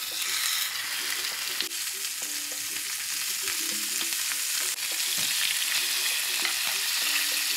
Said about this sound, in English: now we gently put the steak in.